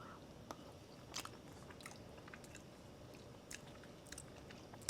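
Quiet, close chewing of French fries ice cream, with a few soft bites and crunches scattered over a low, steady mouth sound and no talking.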